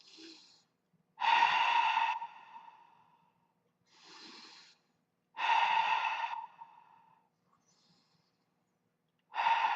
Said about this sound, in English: Now we're going to breathe in through the nose and out through the mouth.